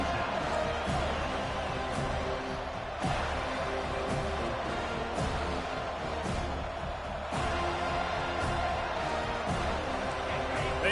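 A stadium crowd in a South Carolina versus FSU college football video game roars and cheers in a steady, dense wash of noise throughout, with faint thumps under it.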